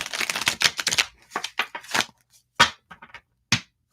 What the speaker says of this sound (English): And again, and I shuffle 3 times.